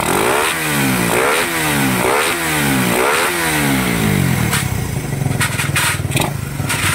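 A motorcycle engine revs hard several times in rising, roaring sweeps, close and loud, then settles into a rough idle with some clattering.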